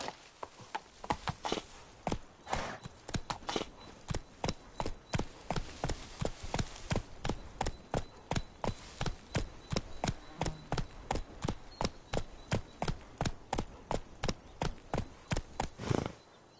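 Horse hooves galloping in The Witcher 3, a steady, rapid run of loud, close clip-clop beats lasting throughout, with a faint whinny partway through.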